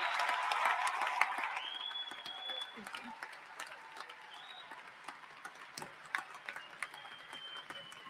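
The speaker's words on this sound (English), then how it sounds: "Please, everyone, give the graduating class of December 2022 a round of applause" Commencement audience at a Wayne State University winter ceremony applauds the graduating class, a broad burst of clapping with a whistle that thins into scattered claps and faint crowd murmur.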